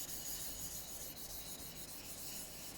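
A steel chisel is pushed back and forth across a waterstone during freehand sharpening, giving a continuous, close, gritty rubbing rasp at steady level.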